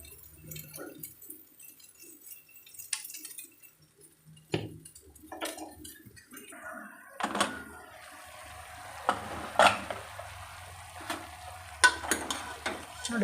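Mutton pieces frying in a pan with a spoonful of coriander powder, a soft intermittent sizzle with stirring scrapes and occasional clinks of a spoon against the pan, close and fairly quiet.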